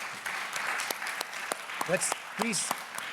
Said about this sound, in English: Everybody please stand and clap for Jude.